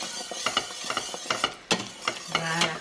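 Salted butter caramel with fleur de sel is stirred in a pan, producing a close, steady scraping and sticky clicking with a soft bubbling underneath, heard alone.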